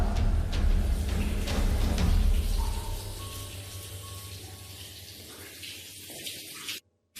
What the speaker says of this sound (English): He keeps hearing a sink drip even though no water is coming from the faucet